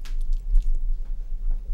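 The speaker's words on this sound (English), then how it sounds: "Stir that in." Cornbread batter being stirred in a bowl, a soft, wet squishing and scraping that comes up close in a few quick strokes.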